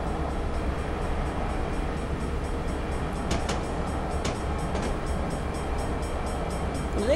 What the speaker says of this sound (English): A huge gas guzzling train.